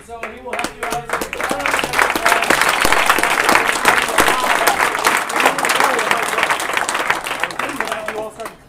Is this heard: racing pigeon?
no